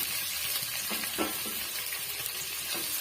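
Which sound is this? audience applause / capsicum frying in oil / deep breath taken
capsicum frying in oil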